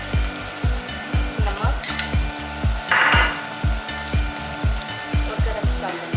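Red chili and spices frying in a pan for Sindhi biryani, a steady sizzle under regular rhythmic scraping and knocking of a spoon stirring, about two strokes per second, with a brief spoken word.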